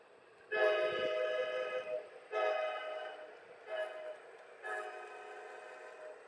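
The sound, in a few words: Bachmann large scale model train locomotive running on track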